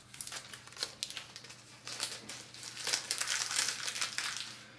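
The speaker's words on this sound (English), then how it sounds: "then take that tape off" Masking tape is peeled and crinkled off a watercolour painting of a variegated wash, giving a close, quiet series of papery crackles and tearing rustles with no talk.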